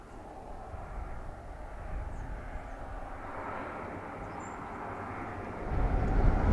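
A Ryanair airliner landing on runway 28 at Dublin Airport, heard as a steady distant jet rumble and roar that swells slightly toward the end, with no talk.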